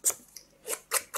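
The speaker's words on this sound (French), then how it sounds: "Et je ponce" Sandpaper rubbed over a small round plastic part from a Russo-Balt model kit, heard as three short, close, dry rasping strokes separated by brief pauses, with no talking.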